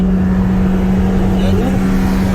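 A freshly tuned McLaren 720S supercar idles with a steady low engine drone and hum, close by, with a slight shift in tone partway through.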